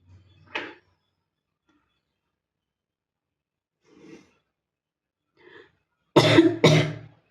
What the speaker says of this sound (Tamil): எனக்கு இருமல் தான் வருது.